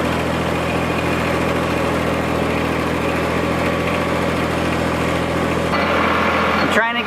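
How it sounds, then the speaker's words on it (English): Tractor driving slowly across a bee yard while moving beehives, its engine a steady low idling rumble with constant vibration, close and loud, before a brief clunk near the end. "I'm going to drive this tractor slowly to get this girl in place."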